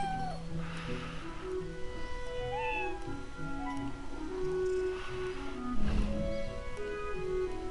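A cat meows in the video game Beyond Eyes, several drawn-out, wavering cries over a soft tonal ambient backdrop, with a louder rustling burst near the end.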